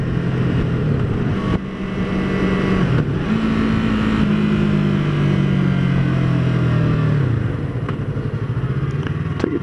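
A 2015 Yamaha R3 motorcycle engine revs and accelerates while being ridden, a close, loud growl that climbs in pitch and drops back, with brief gear-change dips and wind noise mixed in.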